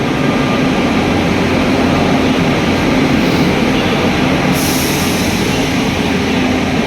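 The late-running Kalindi Express pulling in at a railway platform, a loud, steady rumble and hiss of the moving train that stays constant throughout, with no voices.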